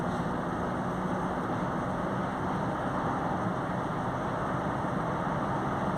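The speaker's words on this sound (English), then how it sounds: "That's foot down, full acceleration there." A Honda CR-V 2.2 diesel in restricted limp mode with its DPF warning lit runs under full throttle, giving a steady, droning engine roar with a constant low hum and whine and no clear rise in pitch.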